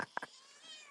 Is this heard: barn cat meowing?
yes